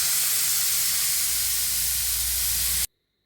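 Kingfish slices frying in olive oil in a pan, giving a steady, dense sizzling hiss heard close up without talk, cutting off abruptly near the end.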